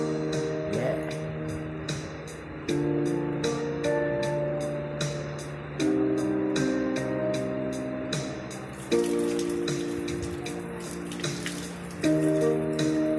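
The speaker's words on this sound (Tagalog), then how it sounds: "Tubig yun." Running water splashes and patters steadily in the background, partly masked by music with sustained tones and plucked notes played over it.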